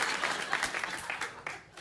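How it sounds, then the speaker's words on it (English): Applause from a late-night talk show studio audience, a dense burst of clapping that fades somewhat toward the end, with a few louder individual claps standing out. "Applaud my pain. What the hell? Why would you applaud that?"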